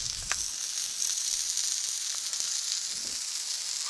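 Hash browns and sausage cook on a Blackstone griddle, a continuous bright sizzle with small pops and crackles scattered through it, close and even, with nobody speaking.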